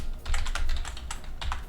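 Rapid keystrokes on a computer keyboard during coding, clicking in uneven bursts with a short pause, close and fairly loud with no voice.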